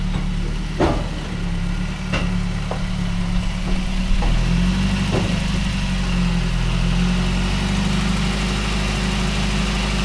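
Ford F-350 pickup engine idling steadily after being started on starting fluid, a loud, close low rumble with a few sharp clicks and taps early on and a slight shift in pitch midway.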